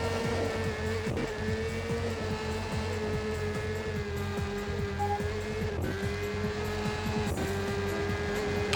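A GT race car in the Le Mans 24 Hours PS2 game drives through the wet, its engine droning steadily at high revs with brief pitch drops on shifts, loud and continuous with no talk.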